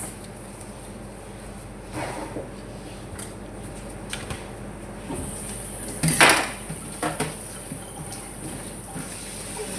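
Saluyot (molokhia) leaves being washed for adobo in a kitchen, with water running steadily and scattered splashes, clatters and handling knocks, a louder rush of water in the middle.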